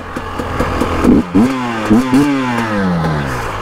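A two-stroke motorcycle engine runs close by, its buzzy note rising and falling through several throttle blips and revs.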